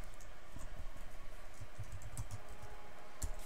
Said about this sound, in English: just bear with me while we type out three words